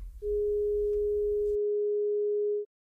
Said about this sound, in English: during the Baroque period, around the 1600s, that same note was set at 415 hertz.